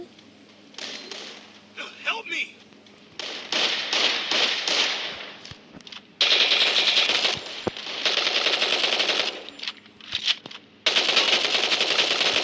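Rapid bursts of M10 automatic gunfire in a mobile shooter game ring out in loud repeated volleys with short pauses, while a player talks over the action.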